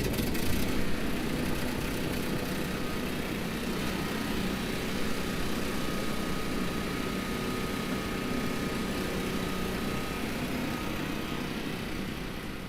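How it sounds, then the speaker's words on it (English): A portable generator runs steadily at a home, a continuous low engine drone with a faint whine on top, even and unbroken from start to finish, with no voices over it. "Let me fire up the generator so we got some light to work with."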